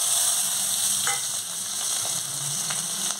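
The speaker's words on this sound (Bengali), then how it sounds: "তেলটা আছে আমার, সেই তেলে হয়ে যাবে, তাই আমি পেঁয়াজের কুচিগুলো দিয়ে দিচ্ছি।" Chopped onions dropped into leftover hot oil for an egg and poppy-seed (posto) dish give a loud, continuous hiss of frying with faint crackles and spatters throughout, no one speaking.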